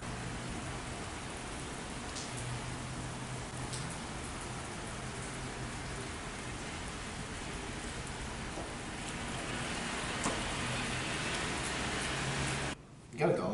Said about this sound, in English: It's pretty nasty out with that rain.